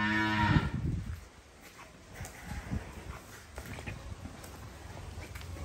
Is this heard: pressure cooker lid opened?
no